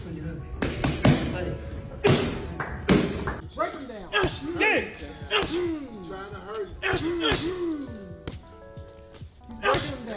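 Sharp, loud thuds of punches landing to the body in boxing training, several hits in quick bursts close by, mixed with shouting voices and grunts throughout.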